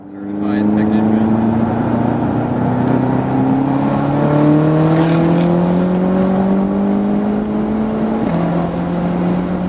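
A Stage 2 tuned BMW F13 M6 accelerating hard through the gears, its engine note climbing loud and close for several seconds before one shift drops the pitch near the end.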